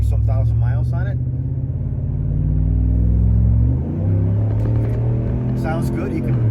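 A Chevrolet LTZ Z71 pickup truck engine rumbles loudly up close, its tone rising and swelling as it revs, then dipping and climbing again, with someone talking over it.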